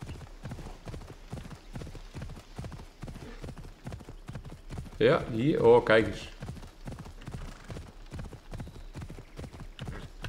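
A horse trotting in Assassin's Creed Odyssey, with steady, evenly spaced clip-clop hoofbeats close by throughout. Someone speaks briefly over the hooves in the middle.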